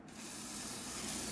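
Diesel hisses from a pinpoint sprayer onto a Klopp 450 metal shaper in one steady, continuous spray that sits up close and fairly loud.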